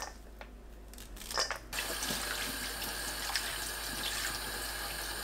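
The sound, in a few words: washing perilla leaves under running tap water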